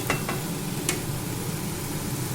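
Red amaranth leaves (lal shak) sizzle as they fry in a pan, with a few brief scrapes of stirring near the start over a continuous hiss.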